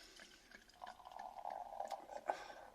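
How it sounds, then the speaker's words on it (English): Le Mesnil-Adelée organic cider pours steadily into a glass, a soft, close liquid stream with a faint fizz and a small clink near the end. "Let's pour this sucker out."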